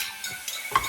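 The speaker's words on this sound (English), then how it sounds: "Saute the vegetables for around 1 minute" Corn and spinach sautéing in a pan, a soft sizzle with the scrape and clink of a utensil stirring the vegetables, close and fairly quiet, with one sharper knock near the end.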